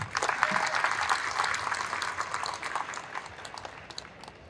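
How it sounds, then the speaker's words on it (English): Audience applause for an absent award winner at a sign industry event: a full burst of clapping that starts strong, then gradually thins and fades toward the end. "we can still give her a round of applause"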